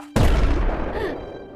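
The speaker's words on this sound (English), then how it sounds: "What an explosion!" An explosion in the video game Lost Lands 9 with a sudden loud boom followed by a deep rumbling decay that trails off over about a second, heard alone.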